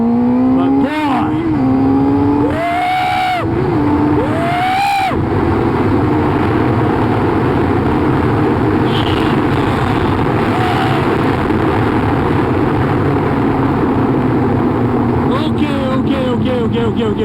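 A Honda CBR 600RR motorcycle with a Power Commander 6 and racing boots on the rider, engine rising and falling through several quick revs and gear shifts, then a steady loud drone with wind rush.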